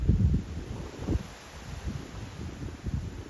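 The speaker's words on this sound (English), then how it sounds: "The Blue Ridge Mountains are gorgeous. They don't disappoint. And it's windy" Low, gusty wind rumbles and buffets outdoors in the Blue Ridge Mountains on the Appalachian Trail, in uneven bursts, with a faint rustle underneath and no voices.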